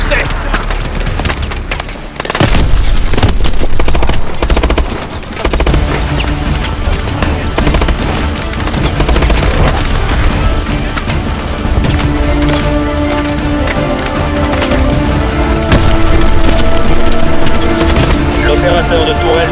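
Dense, loud bursts of automatic gunfire and booming explosions from Call of Duty: Advanced Warfare combat, continuous and chaotic throughout with a brief drop partway, voices occasionally talking beneath the battle.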